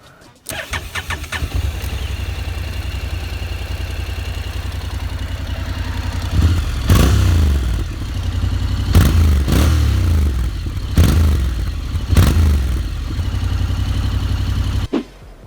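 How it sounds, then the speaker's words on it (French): A 2019 Honda NC750X DCT motorcycle engine starts with a few clattering cranks, then settles into a loud, steady low-pitched rumble, punctuated by several sharp throttle blips that rise and fall, close to the listener. "Le moteur a un son rock, c'est pas un petit 500, ça s'entend, hein."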